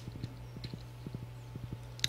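Horse hooves in the video game Stardew Valley: a quiet, steady clip-clop of footfalls in a regular trotting rhythm, heard alone.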